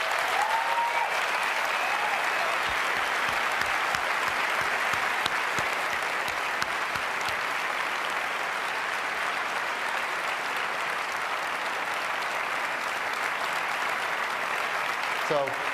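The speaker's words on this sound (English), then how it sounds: "So please help me give them a round of applause." A large audience applauds at an Apple WWDC 2009 keynote, dense sustained clapping filling a big hall for about fifteen seconds, steady and loud throughout.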